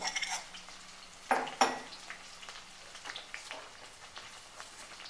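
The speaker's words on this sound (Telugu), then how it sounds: "పోపు అయితే వేగింది" Tempering spices and garlic sputter and crackle in hot oil with scattered small pops, broken by two sharp metallic clanks of a utensil against the pan.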